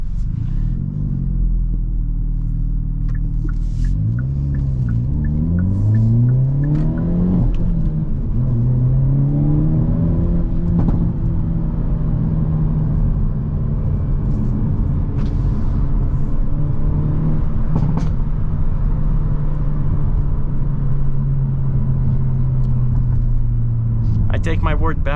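Steady engine drone from a 2023 Hyundai Elantra with a six-speed manual gearbox while driving, rising and falling in pitch with revs through gear changes, close and continuous with a constant road rumble underneath.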